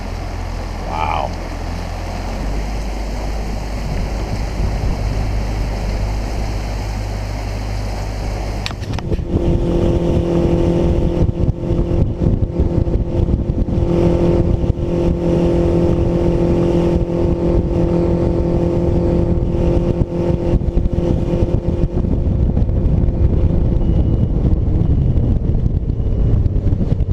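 A Mercury outboard engine runs steadily on a boat during break-in, a loud constant drone with wind buffeting the microphone; a voice is faintly present early before the engine note settles into a sustained hum.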